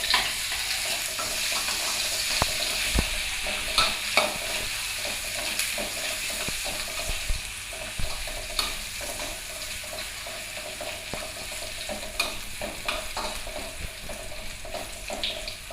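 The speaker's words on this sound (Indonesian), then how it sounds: "kita masukkan bawang putih yang sudah saya haluskan ya, sebanyak 3 butir bawang putih. Saya oseng dulu ya." Three cloves of ground garlic stir-fried in hot oil in a pan, giving a continuous close sizzle and crackle with the scrape of a spatula stirring throughout.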